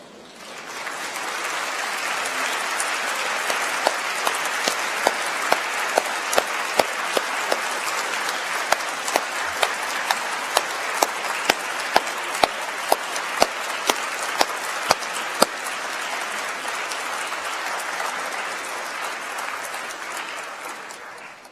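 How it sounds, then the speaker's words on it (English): Graduates at a winter graduation ceremony stand and applaud their family and friends in a hall, a long sustained wave of crowd clapping lasting about twenty seconds with sharper individual claps standing out. "would you please stand and turn to your family and friends in this hall and applaud"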